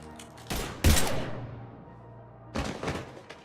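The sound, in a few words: gunfire in video game Mass Effect 3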